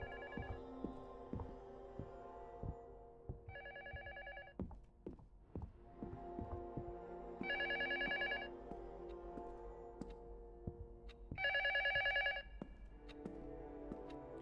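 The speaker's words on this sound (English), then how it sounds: "The phone keeps ringing." A telephone bell rings in four separate bursts amid tense ambient music and sharp clicks, each ring a brief electronic trill, with no talking.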